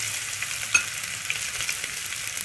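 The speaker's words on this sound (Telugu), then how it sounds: "అల్లం వెల్లుల్లి పేస్ట్ ఆయిల్లో వేసేస్తున్నాను" Ginger garlic paste frying in hot oil for tomato egg rice, a loud, dense, continuous sizzle close up with a sharp crackle burst early on and no talking.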